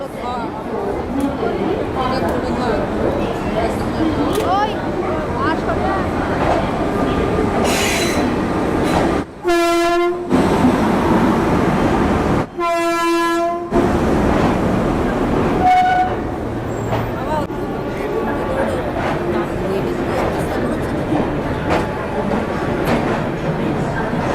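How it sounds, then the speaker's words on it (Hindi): A Duronto Express hauled by a Howrah-shed WAP5 electric locomotive rolls along platform 5 at New Delhi railway station. Loud wheel rumble and squeal are joined by two long blasts of the horn midway, amid busy station noise and nearby voices. "अपनी दुरंतो एक्सप्रेस आ गई है न्यू दिल्ली रेलवे स्टेशन के प्लेटफॉर्म नंबर 5 पर"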